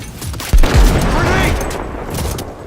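Gunfire in the video game Cyberpunk 2077, a loud close burst of shots and booming impacts followed by sustained rumbling noise, with a voice talking underneath.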